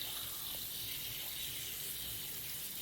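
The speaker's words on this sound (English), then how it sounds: "Just run the water." Water runs steadily from a tap while hair is rinsed after bleaching the knots on a lace closure, a faint, even hiss with no speech.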